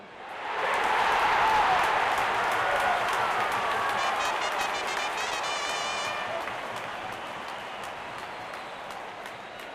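Stadium crowd at an RCB vs KKR IPL cricket match breaks into sustained applause and cheering, swelling quickly and holding steady before slowly easing off, a dense wash of clapping filling the stands.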